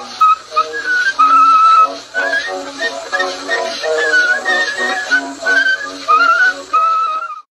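A melodic whistled tune from an 1891 phonograph recording of a minstrel song, thin and band-limited, with faint surface hiss and no talking.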